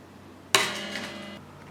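A cutter snips through an electric guitar string: one sharp metallic snap close by, then a bright ringing tone that fades over about a second.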